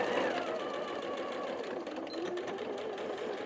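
A sewing machine backstitching over a seam on a half-yard grocery bag, running steadily back and forth with a continuous close whirring hum and fine rapid needle clatter.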